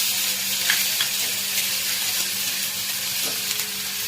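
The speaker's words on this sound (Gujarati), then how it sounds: "વઘાર થઈ રહ્યો છે." Ginger and chili tempering sizzles in hot oil for aloo paratha filling, a steady broadband frying hiss with a few soft stirring clicks, close and continuous throughout with no talking.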